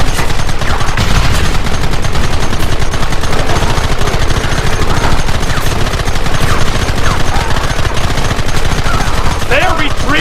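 A Red Dead Redemption gunfight unfolds as a constant, loud barrage of rifle and pistol fire. Many overlapping shots crack near and far, with voices shouting faintly underneath.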